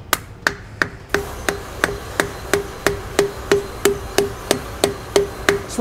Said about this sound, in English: Just want to go around in a circle, gently tapping it so it'll go in evenly until it's fully seated.